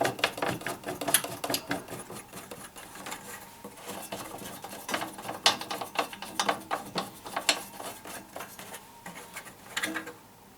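A screw is tightened fully on an Einhell TC-SP planer-thicknesser, giving a close series of irregular metallic clicks, ratcheting taps and clinks at moderate volume with no talk.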